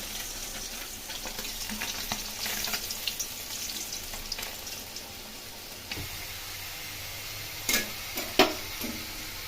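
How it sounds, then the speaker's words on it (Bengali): Spices with cumin and chili powder being stir-fried in oil for a Bengali-style fish curry, giving a low steady sizzle with scraping stirs and a few sharp clinks of the utensil near the end. "এখন ভালো করে কষিয়ে নিচ্ছি।"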